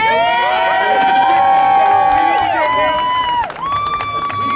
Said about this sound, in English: to give a big round of applause because this is his first year